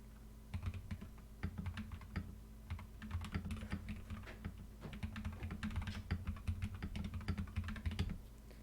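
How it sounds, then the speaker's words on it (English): Typing on a computer keyboard picked up behind a Fifine K669 USB microphone, a steady run of quick, close key clicks and clacks with no talking. "Here's what my keyboard sounds like behind the microphone."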